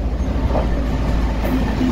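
Steady low rumble of a train rolling along rails, continuous and fairly loud, with faint rhythmic clatter underneath and no voices.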